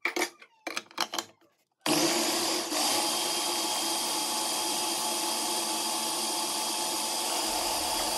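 A blender mixing onion, garlic, smoked chili and canned tomato for birria, starting after a few short clattering knocks and then running as a loud, steady motor whir that holds without a break.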